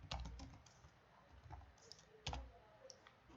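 Code being typed on a computer keyboard while writing an Ethereum Solidity smart contract, a quiet close run of uneven key clicks with a few heavier taps, no voice over it.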